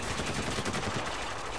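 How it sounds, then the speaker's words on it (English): Dense, continuous automatic gunfire from the video game Spec Ops: The Line, loud and sustained with overlapping rapid shots and no talking. "I'm not sure whether I'm supposed to be shooting these guys or no."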